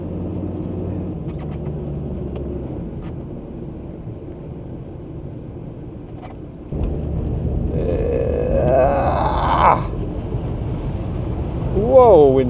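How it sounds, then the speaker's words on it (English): Wind gusts across an open, scenic outdoor spot, a broad rushing roar that swells stronger and closer partway through, with a voice briefly exclaiming over the buffeting. "Whoa, windy place."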